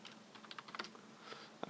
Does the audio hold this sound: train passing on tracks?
no